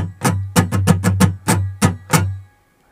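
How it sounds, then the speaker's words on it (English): Muted dead-note strums on all six guitar strings, a quick down-up pattern of about nine percussive scratchy chops, close and alone, ending in silence. "this means you'd play all your dead notes on all six strings like this"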